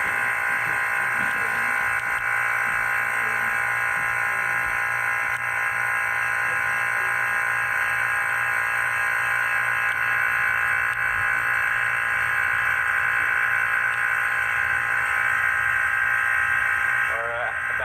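A steady electric hum with a buzzing, tonal drone runs throughout, constant and fairly loud, from a vacuum chamber pump working nonstop, drawing the chamber down to about 0.2 atmospheres.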